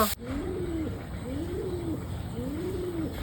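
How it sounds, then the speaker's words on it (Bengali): A pigeon coos nearby in three slow, rounded calls spaced evenly apart, over a quiet background after a brief sharp noise at the start. "ওই দেখো পায়রাটা, ওই দেখো উপরে বসে আছে"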